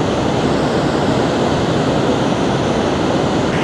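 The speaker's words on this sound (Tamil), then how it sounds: "தண்ணி பாருங்கள், சவுண்டு வேறு லெவலில் இருக்குது." Loud, steady roar of water rushing over Bhavanisagar Dam at night, broadband and unbroken throughout, with no voices or other sounds.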